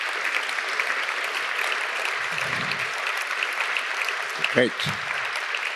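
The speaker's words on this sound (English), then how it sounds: "now is the right time for a big welcome applause to the two guests of us, Isabelle Graw and Sarah Morris." Audience applause welcoming two guests to an art talk, steady clapping throughout, with a man's brief spoken word over it near the end.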